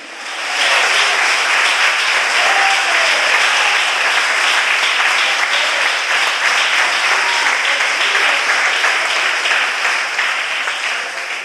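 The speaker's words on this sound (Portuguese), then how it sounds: "Aplauda o Senhor, aleluia." A congregation in church applauds at length during a service, a loud, dense and steady clapping that holds evenly for over ten seconds before easing slightly at the end.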